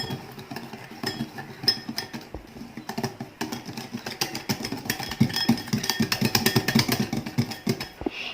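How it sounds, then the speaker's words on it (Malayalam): A spoon scrapes and clatters around a bowl as cookie batter is mixed with poured-in sunflower oil, producing a steady run of quick clinks and scrapes up close at a modest level. "ഓയിൽ ഒഴിച്ചിട്ട് ഒന്നുകൂടി ഒന്ന് മിക്സ് ചെയ്യാം."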